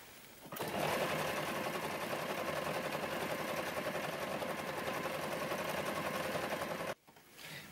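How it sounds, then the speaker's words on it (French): A sewing machine stitches with black thread in a steady, close, loud whir that runs for about six seconds before stopping abruptly, with faint handling sounds afterward. "là on va passer à la machine à coudre"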